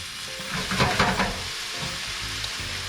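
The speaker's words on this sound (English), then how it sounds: "So throw that soy sauce in there, stir it up." Rice sizzles and fries in a hot pan with soy sauce just added, stirred with a few scraping bursts early on, then a steady close sizzle continues alone.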